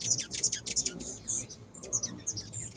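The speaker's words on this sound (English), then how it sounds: "We do get a lot of hummingbirds." Hummingbirds at a backyard feeder in Southern California give rapid, high, thin chirps and twitters, fairly faint, in quick scattered bursts over a soft background.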